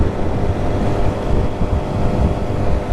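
A 14ft jon boat driven flat out by a 20hp Tohatsu outboard while heading into the wind, giving a steady, loud engine drone blended with heavy wind buffeting and water rush.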